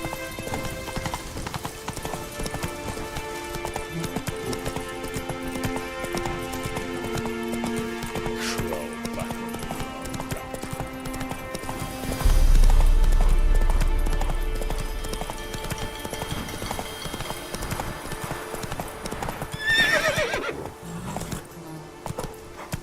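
A horse gallops in The Witcher 3 video game, its steady rhythmic hoofbeats running under game music, with a louder low rumble partway through and a sharp cry near the end.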